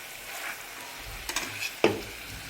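Chicken dum biryani, Muslim style, turned over in a pressure cooker, with a few close scrapes and a sharp metallic clank of the spoon against the pot over a low background hiss.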